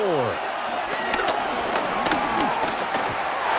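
Stadium crowd noise in a Madden football video game, a continuous roar with sharp thuds and bursts rising over it, heard alongside a voice speaking.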